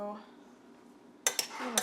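A utensil fluffs freshly cooked hot quinoa in a pot: after a quiet stretch, a few sharp metallic scrapes and clinks against the pot sound close by, clustered near the end.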